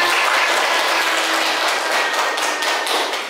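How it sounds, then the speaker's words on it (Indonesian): Dense hand clapping from a group in a classroom, a steady crowd of applause lasting a few seconds, close and fairly loud, with no talking. "Tepuk tangan."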